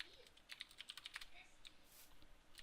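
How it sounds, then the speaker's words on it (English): Typing on a computer keyboard, heard as a quick run of crisp, faint key clicks in an irregular rhythm followed by a few scattered taps, close and quiet. "if I can type it right"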